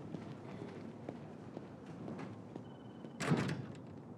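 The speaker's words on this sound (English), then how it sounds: "Could you shut the door, please?" A door is pulled shut in an office, a soft thud and latch catch near the end after faint shuffling movement and light footsteps in a quiet room.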